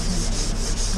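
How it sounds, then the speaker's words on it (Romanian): Close, rhythmic hand sanding of a car wheel arch lip, with about four steady back-and-forth rubbing strokes of abrasive paper over a short span. "vom începe să șlefuim această buză"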